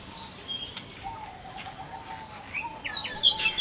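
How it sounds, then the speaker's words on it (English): A white-rumped shama sings in an aviary at Jurong Bird Park, giving faint, brief whistled chirps that grow into a brighter burst of rapid notes near the end, over quiet background hiss. "This here is the white-rumped shama, known for its beautiful song."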